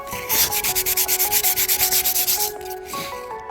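Coarse 60-grit sandpaper scrubs across the body of an OBS truck in a fast, steady run of rhythmic strokes, loud and close, then slows and stops near the end.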